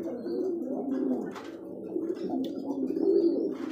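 Pigeons coo steadily in low, rolling calls at a pigeon breeding farm, many birds layered together close by with a few faint chirps above, no talk.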